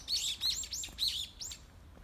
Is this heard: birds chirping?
yes